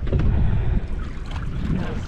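A sailboat slips off its anchor under headsail alone off Zanzibar, engines silent, with steady wind rush and water noise against the hull filling the whole stretch.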